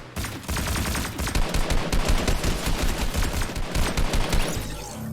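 Sustained rapid gunfire in a Fortnite match, a dense and loud string of shots firing continuously for several seconds.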